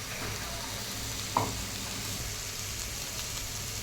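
Green peas, cabbage and spring onions frying in a pan for a ragi vegetable soup, giving a faint, steady sizzle throughout with a single soft knock partway through.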